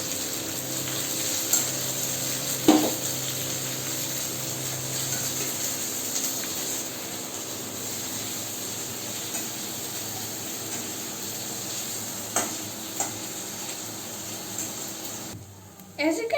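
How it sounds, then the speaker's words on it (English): Sliced tomato and onion sauté in a pan with a continuous low sizzle, broken by a few sharp clinks and scrapes of a utensil, and everything drops away briefly near the end. "Now I will put the sliced tomato in this. And now I will saute it."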